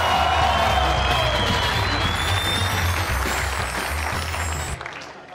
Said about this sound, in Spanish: Quiero que reciban con un fuerte aplauso a Carlos el Mochito Sánchez.